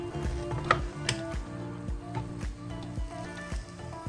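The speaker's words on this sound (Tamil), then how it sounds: "இதை வந்து ஃபுல்லாக நம்ம இந்த மாதிரி மூடி இங்கே லாக் போட்டுக்கலாம்" Sandwich maker lid shut and latched over a cheese sandwich, a series of close clicks and clunks with rattling handling noises spaced through the clip.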